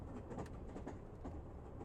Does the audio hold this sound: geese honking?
no